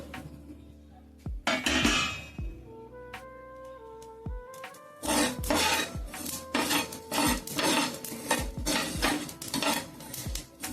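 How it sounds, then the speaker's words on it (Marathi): Dry whole spices, fennel, cumin and mustard seeds with chillies, roast in a pan, rasping and scraping under repeated sharp metallic knocks and rattles of a utensil, with quieter stretches between louder bursts. "सर्वप्रथम आपण हे ड्राय मसाले रोस्ट करून घेऊ।"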